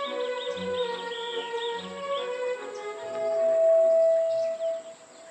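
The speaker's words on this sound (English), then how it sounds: "Because bellbirds are among the loudest birds on Earth." A bellbird calls in a rainforest canopy gap with steady, ringing tonal notes that hold and shift pitch, moderately loud and fairly near, while other faint birdsong runs in the background.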